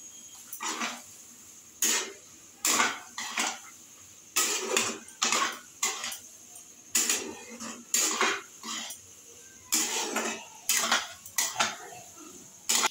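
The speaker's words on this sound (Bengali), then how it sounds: "আলুটা দিয়ে ঘুগনিটাকে নাড়াচাড়া করছি" A utensil scrapes and clanks against a pan in repeated bursts while ghugni with potato is stirred, each stir a sharp metallic clatter with short pauses between, close and without talk.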